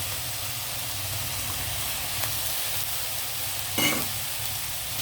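Ginger, garlic, green peas, green chillies, kabuli chana and tomato fry for palak rice pulao, giving a steady, close sizzle with a brief burst of stirring near the end.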